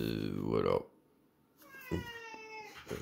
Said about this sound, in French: Ouais, le chat, il est à fond, il est d'accord.